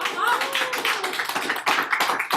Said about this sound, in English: Big round of applause to that.